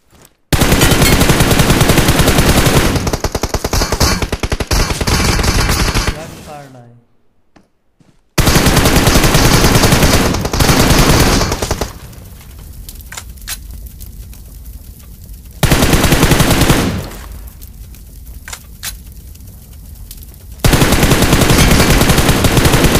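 Gunfire in a PUBG Mobile match: loud, dense bursts of rapid shots fill long stretches, separated by quieter gaps with lighter scattered firing.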